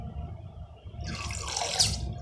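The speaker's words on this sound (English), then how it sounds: "Let's fill it up with water." Water pours into a squishy toy bottle, a soft splashing and trickling rush that swells over about a second, close and moderately quiet.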